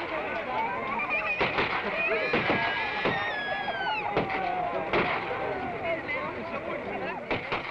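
Gunfire rings out in Northern Ireland as a Catholic flag is shot to ribbons. Several sharp cracks come at irregular intervals over a thin, wavering background of voices.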